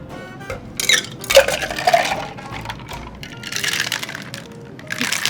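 Water splashes and trickles over caviar being rinsed in a container, with irregular bursts of pouring and sloshing, small clinks and rattles, fairly close and moderately loud, with no talking.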